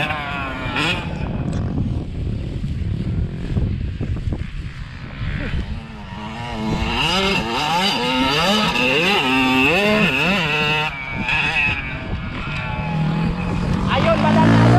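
An 85 cc motocross bike engine revs and drops repeatedly in a rising-falling pattern, fairly close, rasping over ongoing talk through most of the stretch.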